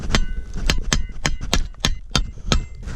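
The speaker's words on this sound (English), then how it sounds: "Pounding these in with a hammer," A hammer pounds a metal T-post into the ground outdoors, seven loud, evenly spaced ringing strikes close by, with no voices.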